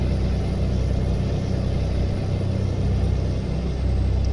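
A steady low truck engine drone in Euro Truck Simulator 2, a heavy rumble running at motorway speed around 89 km/h, continuous and fairly close with no talk over it.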